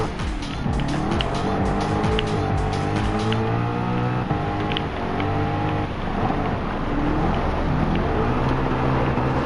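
A Group P race car in Gran Turismo 7 roars steadily at high revs, its engine pitch sweeping up and down through gear changes, with tires squealing through corners; the sound is loud and continuous, with a voice faintly underneath.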